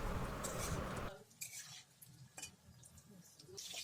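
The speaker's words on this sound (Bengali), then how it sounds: "আলুগুলো ততক্ষণ ভাজা করবো যতক্ষণ না এটা একটা সুন্দর গোল্ডেন কালার পাচ্ছে" Cubed potatoes frying in mustard oil in a wok, a loud burst of sizzle at first that drops to a quieter crackle with scattered scraping and metal clinks, faint overall.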